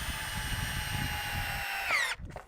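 A power drill drives Robertson screws into wood in a garden build, a steady whining hum with its motor pitch rising briefly before it cuts off abruptly near the end.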